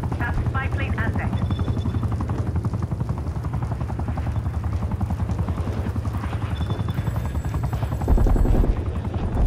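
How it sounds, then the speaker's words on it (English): An enemy attack helicopter circling overhead in Call of Duty: Black Ops Cold War, a loud, constant rotor thump filling the scene, with game voices speaking over it and a short burst of noise near the end. "Enemy attack helo above."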